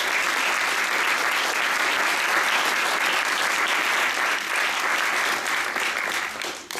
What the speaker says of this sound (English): I think these two deserve a round of applause